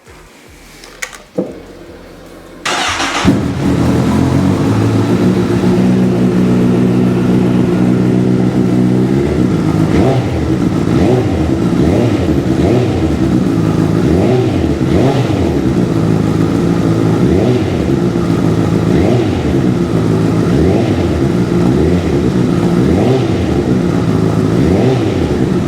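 A Honda CBR1000RR motorcycle with 28,292 miles cranks over and fires up, then idles and runs steadily, a close, loud engine note with rhythmic pulsing that continues on its own without talk.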